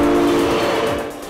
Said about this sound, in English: This train is going pretty fast too.